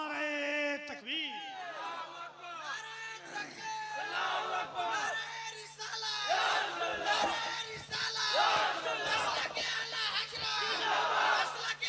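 A large religious gathering roars back in unison to the Naara-e-Takbeer call, with a voice leading before the crowd's loud, sustained shouts rise in several waves over a low hum.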